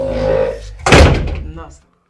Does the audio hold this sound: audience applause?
no